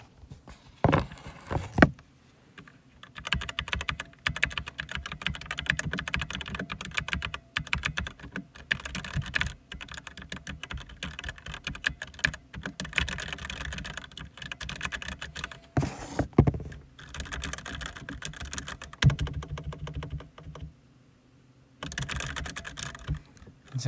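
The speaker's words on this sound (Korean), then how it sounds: "지금 타자 이 키보드 소리 들리세요?" Rapid typing on a computer keyboard, close and clear, with bursts of quick clicks broken by short pauses, heard alone without any talking.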